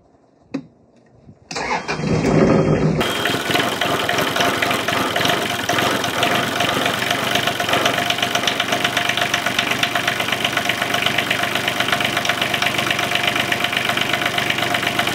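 A hard-to-start excavator engine, its air cleaner and intake hose just refitted, cranks briefly after a few clicks and catches quickly, then settles into a loud, steady, rumbling idle close by.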